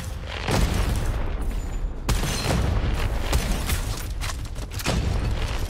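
Rocket launcher explosions in the game Gunfire Reborn, a rapid string of loud booming blasts, roughly six heavy impacts spaced about a second apart over a continuous rumbling bed, close and forceful, with no voices.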